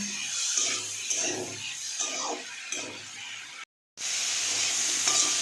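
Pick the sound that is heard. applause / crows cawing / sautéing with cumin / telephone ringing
sautéing with cumin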